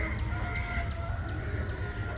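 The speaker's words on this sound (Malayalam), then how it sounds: "ഇവിടെ എല്ലാം ഇഷ്ടം പോലെ പൂവൻകോഴി നിൽപ്പുണ്ട് കേട്ടോ." Rooster crowing in the morning on church grounds beside a cemetery, its drawn-out call steady and moderately close over a continuous low outdoor rumble, with no talking.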